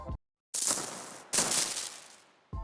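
A magic lightning spell effect built from ring-modulated water splashes: a brief crackle, then two long, harsh, sizzling bursts that fade out gradually, and a final short burst at the end. Loud, with no voices.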